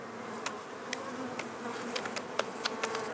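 Honey bees inside a crowded hive of about thirty thousand buzz in a close, continuous drone, with scattered sharper clicks and brief louder passes from individual bees.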